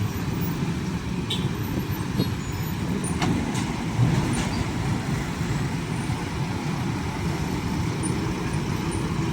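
Heavy motor traffic bunched at a railway level crossing, including trucks such as a Hino 502, with a steady engine drone, passing vehicles and a brief air-brake hiss near the middle.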